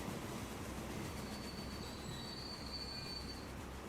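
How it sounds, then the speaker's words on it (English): Passenger trains in the Transport Fever 2 railway game roll through with a continuous rumbling wheel noise and a thin metallic squeal of wheels on rails, steady and moderately loud. "We've got our passenger trains waiting here to come in."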